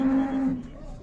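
A single close, drawn-out moo from a cow at the Sokuluk livestock bazaar, with faint crowd murmur behind it.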